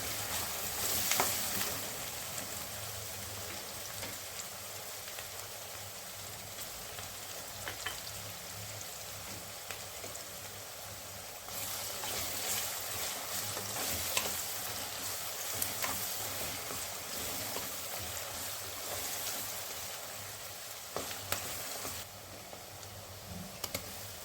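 Onions fry in a pan for a vangibhath breakfast dish, a faint steady sizzle with scattered scraping and clicking stir sounds over roughly twenty-four seconds.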